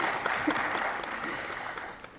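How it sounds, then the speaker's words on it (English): Brief round of audience applause at a university panel discussion, moderate and steady clapping from a seated crowd, fading slightly toward the end. "please give her a round of applause"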